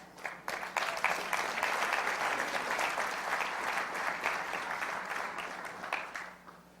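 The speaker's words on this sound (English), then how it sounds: "Clap." Audience clapping during a talk on leadership and character, a full burst of applause that starts abruptly, holds steady for several seconds and then tapers off.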